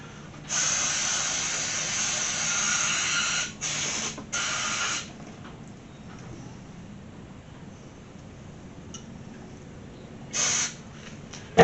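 A few bursts of spray cleaner hissing from a trigger bottle, one long spray then shorter squirts, close by, with a final spray after a quiet pause.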